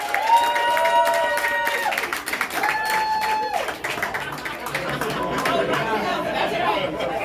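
A street crowd at a Central Brooklyn political canvass launch claps and cheers, with whoops, high calls and lively chatter over the applause, which swells and dips across several seconds.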